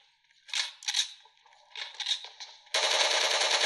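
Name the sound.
gunfire from the video game PUBG Mobile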